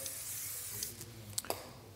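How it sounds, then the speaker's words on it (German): A degreaser, Paint Prepare, sprayed onto car wheel rims, heard as a steady, soft hiss with a few short sharp spray bursts near the end, fairly quiet. "Ich sprühe mir gleich beides ein"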